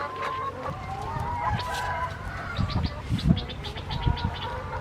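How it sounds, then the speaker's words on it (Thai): Laying hens on a farm clucking near and far, with scattered short calls and one rooster-like crow among them, no talk over the birds. "ไก่ไข่นี้พ่อก็เลี้ยงนะครับ นี่ไก่ไข่"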